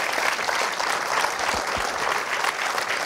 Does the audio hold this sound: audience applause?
yes